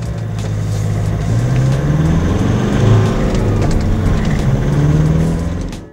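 A Nissan Pathfinder 4x4 with a 2.5-litre turbodiesel engine drones steadily and loudly from up close, with a rising, revving tone and no voices over it.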